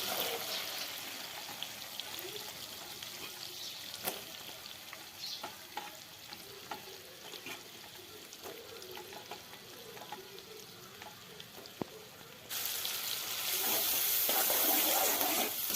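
Onions frying in melted butter in a pan, a steady close sizzle and crackle with scattered small pops and utensil scrapes, growing louder toward the end, with no talking.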